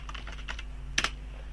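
Keys tapped on a computer keyboard while entering a Windows command, with a light scatter of keystrokes followed by two sharper, louder key presses close to the microphone.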